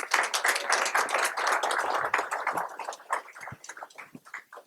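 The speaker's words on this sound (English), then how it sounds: "Let's give them a round of applause, please" A round of applause from an audience at a memorial diorama dedication event, a steady wash of many hands clapping that stays fairly loud, then thins into scattered claps toward the end.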